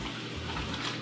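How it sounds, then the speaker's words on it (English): Pizza set on a very hot sheet tray, giving a steady, close hiss of sizzling that holds for a moment with no talk over it. "You hear that sizzle?"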